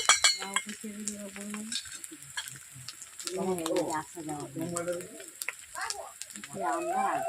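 Ginger and ground spices fry in a pan for a katla fish kalia, giving a steady sizzle with stirring scrapes while a voice speaks over much of it.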